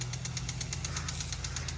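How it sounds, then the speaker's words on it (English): Garden sprinkler running in a front yard, a steady rhythmic ticking hiss pulsing evenly over a low continuous rumble, close and moderately quiet, with no voices. "A moment of sprinkler zen."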